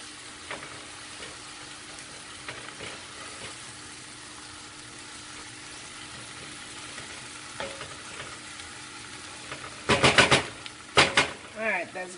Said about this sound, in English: we're going to add that garlic because we don't want that to burn